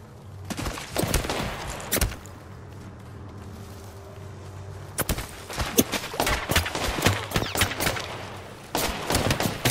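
Gunfire in the Apex Legends video game: sharp, loud shots and short rapid bursts crackle across the whole stretch, with a busier rattle of fire near the end.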